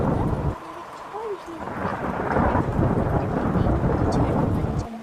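Heavy storm with rain and thunder: a deep rumbling roll of thunder swells over steady hissing rainfall, loud and continuous, with a brief quieter stretch early on.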